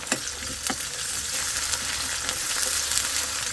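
Ginger paste with turmeric and spices fries in oil in a pan, producing a close, steady crackling sizzle with occasional sharper pops and light stirring scrapes, no talking.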